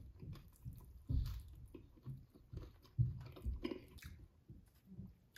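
Someone eats a ground beef hard shell taco with lettuce and tomato up close, giving soft, irregular wet chewing and occasional louder crunchy bites with no talking.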